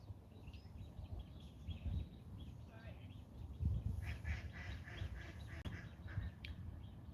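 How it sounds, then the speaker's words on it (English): Ducks quack faintly at a distance, several calls scattered over a steady outdoor background hiss. "every year there seems to be more and more ducks"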